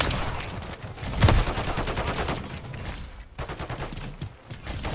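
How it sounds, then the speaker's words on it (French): Rapid automatic turret gunfire in an online shooter match on the Shipment map, a dense chattering stream of shots that stays loud throughout with a brief break near the middle. "Oh les putes, ils ont posé une tourelle."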